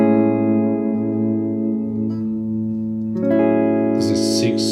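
Sustained electric guitar chords in the Ionian mode played in the E shape, with one ringing voicing held and then a higher chord struck about two-thirds through, with clean, reverberant tone and no talking.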